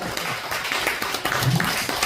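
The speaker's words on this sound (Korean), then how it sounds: "박수 한번 쳐요" Hands clapping at a church evangelism visit gathering: irregular claps from a small group, close, blended with background voices and room chatter.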